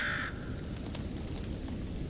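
Crows in the horror game Little Hope give a quick burst of harsh caws at the start, then faint, scattered calls over a low rumbling ambience.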